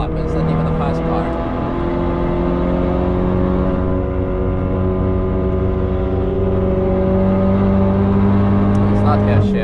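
A Ford Focus RS laps the Nürburgring with its engine droning loudly and steadily, the pitch rising and falling through gear changes, as someone talks over it from inside the car.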